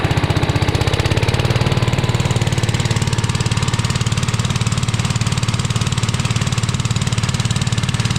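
A heavily loaded engine driving a large alternator to charge batteries runs steadily with a loud, rhythmic low chugging throb that holds constant throughout, with no voices.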